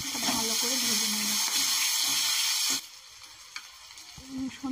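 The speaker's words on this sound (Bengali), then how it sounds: "এরপর আমি পেঁয়াজ কুচি আর পেঁয়াজ কলিটা দিয়ে দেবো, ভালো করে ভেজে নেব।" Chopped onion and spring onion hitting hot oil for a fish kaliya, a loud hiss that stops abruptly partway through, followed by quieter stirring clinks and faint background voices.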